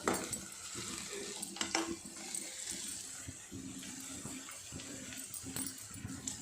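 Okra pieces frying in oil in a wide pan, a soft sizzle under repeated scraping and clinking of a ladle stirring, quiet and close.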